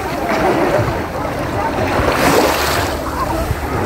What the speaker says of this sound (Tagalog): Nasugod na ang big wave.